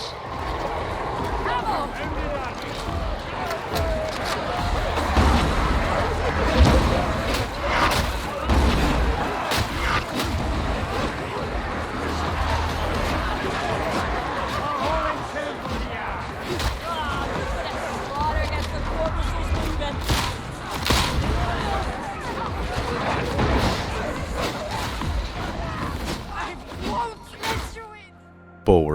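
Game audio of an enemy ambush in a co-op horde shooter, a dense rumble of running, thuds and crowd-like growls swelling under steady loud noise for nearly the whole stretch, then cutting off near the end.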